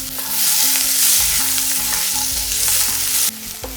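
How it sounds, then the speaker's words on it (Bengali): Chopped onion and a bay leaf fry loudly in a pan with a close, steady hiss and occasional stirring scrapes. Soft music plays beneath, and the sizzle drops off abruptly at the end. "এরপরেই দিয়ে দিচ্ছি সামান্য একটু কুচি করে রাখা পেঁয়াজ।"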